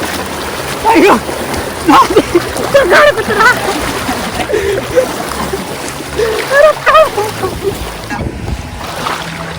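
Water splashes and sloshes in bursts as people swim in a river, close by, while voices talk and call out over the splashing.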